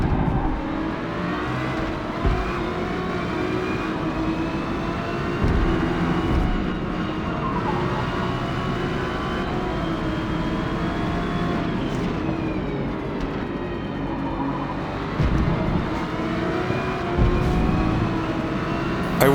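An Acura GT3 race car engine in Forza Motorsport roars continuously, revving up and down through gear changes during a ranked multiplayer GT3 race, loud and close throughout.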